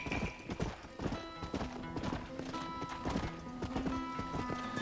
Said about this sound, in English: just a horse we found in the wild.